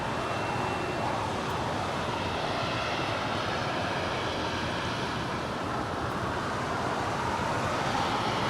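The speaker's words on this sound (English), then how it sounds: "Also just had United Airlines Flight 2035 coming in from Phoenix, Arizona. It's a 737-900ER." A United Airlines Boeing 737-900ER arrives at Los Angeles airport, its engines a steady, even roar heard from a distance, unbroken and without voices.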